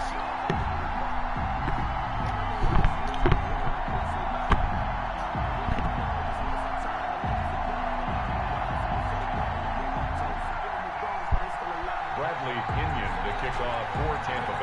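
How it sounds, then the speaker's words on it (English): Sold-out stadium crowd noise in a football video game, Buffalo Bills against Tampa Bay Buccaneers in Buffalo, a steady roar under play-by-play commentary, with scattered thumps and bangs and occasional louder swells. "they entered to the delight of this sold-out crowd"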